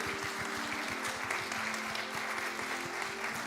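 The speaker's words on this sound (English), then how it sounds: "So can we just clap for the band?" A church congregation claps for the band with dense, steady applause that holds at an even level, a little distant, over a faint sustained tone.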